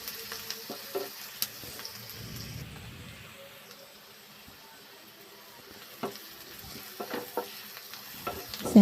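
Onions and green chillies fry and sizzle in a pan with a steady soft crackle, broken by a few stirring scrapes near the start and end. No one speaks.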